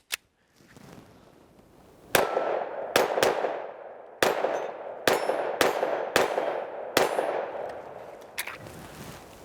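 Sharp cracking shots from a Smith & Wesson M&P 5.7 pistol ring out at an outdoor firing session, around ten reports with metallic ringing tails, spaced unevenly with pauses between them.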